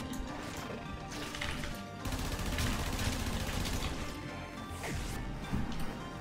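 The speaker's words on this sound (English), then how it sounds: "big guy is shooting heat-seeking rockets at me" Heat-seeking rockets fire from a large enemy in the Warframe video game, a dense, continuous barrage of blasts and crashing impacts that fills the soundscape and stays loud throughout, with no speech.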